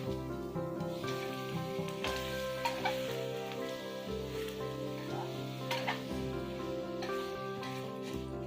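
Steady sizzling of chicken stir-frying in a hot wok, continuous and fairly quiet, with an underlying hum and occasional scraping.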